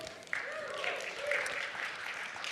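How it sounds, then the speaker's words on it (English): Audience applause in a church during a sermon, faint and steady for a couple of seconds, heard under talking. "We just made you clap at money"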